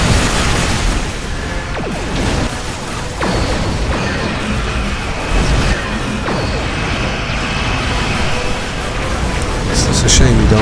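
Weapons firing from a Star Trek Online Elachi Monbosh battleship, a dense, loud, continuous barrage of crashing blasts and booms, with a person talking over the din.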